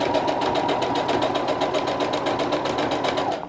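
A sewing machine stitches a skirt hem at a slow, steady pace, close and loud, with a continuous mechanical whir and an even rapid needle beat until it stops near the end.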